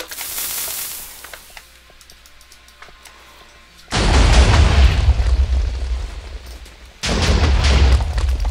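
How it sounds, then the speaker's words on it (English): Rapid-fire TNT cannon in Minecraft, with a muffled burst early on, a quieter lull, then two loud, heavy blasts that each roar on for several seconds. "TNT cannon and slimes in my redstone"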